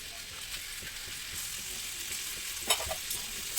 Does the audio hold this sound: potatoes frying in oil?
yes